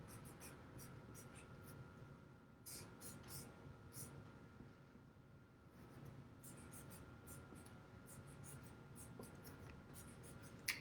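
Pencil or marker writing on paper to label a tall paper building for an arts and crafts model town, heard as soft scratchy strokes in short bursts close by over a quiet room background.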